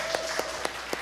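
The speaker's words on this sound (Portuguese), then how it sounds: "uma salva de palmas para a Dai" A church audience applauds Dai with a short burst of scattered clapping from many hands, moderately loud and slightly distant, lasting about a second.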